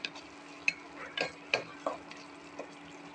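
Spices such as turmeric, chili and cumin are stirred in a pan with a spoon, making scattered scraping knocks and a faint sizzle at low, close level.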